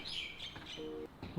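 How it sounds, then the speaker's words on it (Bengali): Birds sing outside a guesthouse in Osh, Kyrgyzstan, with faint high chirps and calls scattered through the short stretch over a low background murmur. "দেখেন কি সুন্দর পাখি ডাকতেছে"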